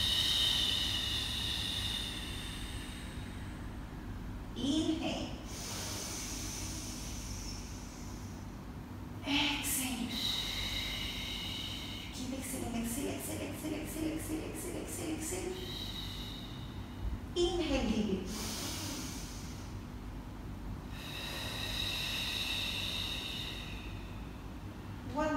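Slow, deep breaths during a gentle beginner Pilates routine, drawn in through the nose and pushed fully out, several long airy inhales and exhales, close and steady, with a voice talking between them.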